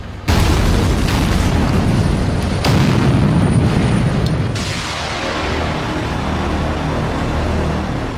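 A heavy rock-blasting explosion in a tunnel booms at the start, followed by a long rumbling roar and a second deep blast, reverberating in the enclosed space.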